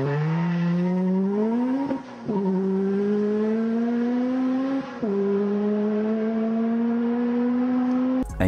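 A HondaJet HA-420 light jet spools up for takeoff on a runway, its turbine engines making a steady, loud rising whine with layered tonal hum and brief dips as power shifts, with no talk over it.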